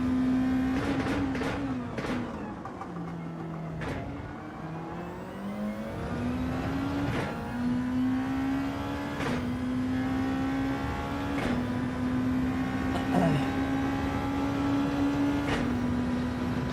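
Race car engine in Gran Turismo 7 on a lap in a Group 2 car: a loud, sustained whine that climbs and dips with repeated gear shifts and brief lifts, alone without talk.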